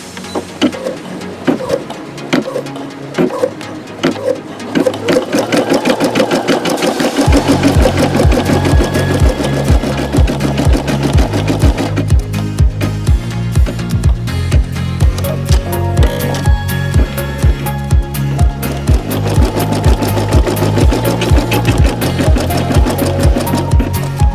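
A Brother SE625 embroidery machine stitches a design with a steady rapid mechanical whir and needle chatter. After a quieter start the rhythm turns loud and continuous, repeating in regular patterned bursts, with no talking.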